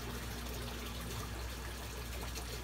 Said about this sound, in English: So you can see the auto water change system is working in these 3 tanks,